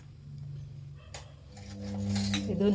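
A spoon clinks against a glass of cumin water, with one bright tap followed by a cluster of lighter clinks and stirring at close range in a quiet room.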